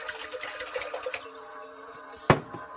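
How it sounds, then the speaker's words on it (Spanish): Volcanic mineral water rich in zinc pours into a blender for a smoothie, a brief splashing stream followed by quieter trickling and one sharp knock near the end. "vamos a empezar con poner el agua volcánica, rica en minerales y en zinc"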